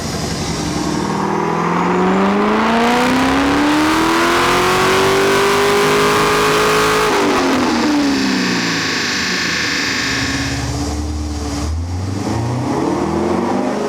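A warm car engine fitted with headers revs hard with a slipping clutch: the pitch climbs and holds, drops abruptly, then surges again in loud, raspy sweeps with no talking.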